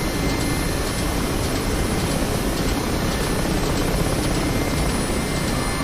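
Mi-8 Hip helicopter in DCS, rotor and turbine engines droning as a continuous, loud broadband wash with a steady whine, no talk over it.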